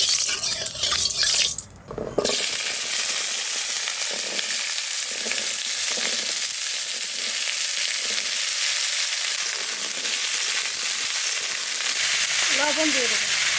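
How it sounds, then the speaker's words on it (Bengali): Chopped taro sizzling in mustard oil in a wok, a loud, steady hiss of frying that starts abruptly and continues near the microphone, with brief stirring and a few faint sounds late on. "কড়াই চাপাই দিই, সরষের তেল দিয়ে দেবো, কচু কাটা ভালো করে কষাই নেব।"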